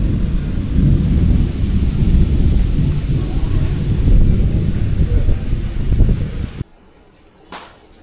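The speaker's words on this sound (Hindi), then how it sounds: "सिर्फ बिजली कड़क रही है बस" Loud, deep thunder rumbles and rolls for several seconds, then cuts off abruptly, leaving faint background noise and a brief distant crackle.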